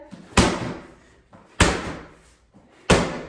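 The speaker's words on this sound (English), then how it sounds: "you're going to go straight into some med ball slams" Medicine ball slammed onto the floor during a full-body workout, three heavy thuds at even spacing about a second and a quarter apart, each with a short decaying tail, close and loud.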